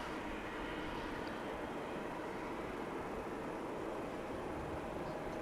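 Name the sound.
American Airlines plane departing Dallas/Fort Worth Airport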